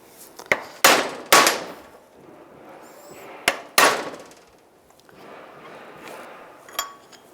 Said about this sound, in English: Just give it a couple taps.